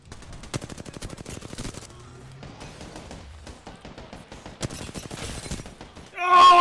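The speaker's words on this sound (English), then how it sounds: "Opening fire." Gunfire in an Apex Legends fight, rapid automatic bursts of sharp shots in clusters with pauses between, loud and close, followed by a voice at the end.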